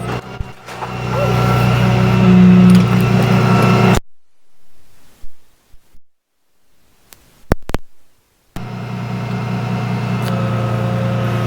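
Truck engine idling loud and close with a steady low drone, cutting out for a few seconds of near silence broken by faint clicks, then resuming at the same level.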